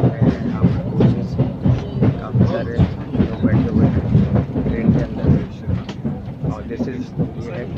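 Spanish-built Talgo train, tested in India, running as heard from inside a chair car: a low, continuous rumble with faint rhythmic clatter, mostly beneath someone talking throughout.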